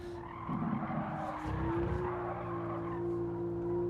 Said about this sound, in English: Hear the tires screaming away.